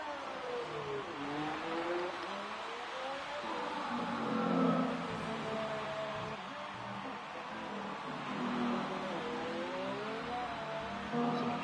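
F1 cars in the Singapore Grand Prix of a racing video game, engines whining and rising and falling in pitch as they accelerate and shift, moderately loud and steady, with no talk.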